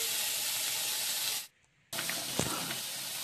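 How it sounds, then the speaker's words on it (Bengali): Rice and lentils come to a boil for vegetarian Navratna khichuri, giving a steady, close, loud hiss of steam and bubbling. The hiss drops away briefly and then returns. "তো দেখো, এই জন্য ফুটে গেছে চাল ডাল"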